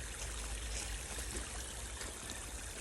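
Water runs steadily out of a drainage pipe into a well, making a continuous, fairly quiet trickling flow. No one speaks over it.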